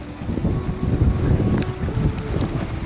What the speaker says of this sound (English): The wind is whipping.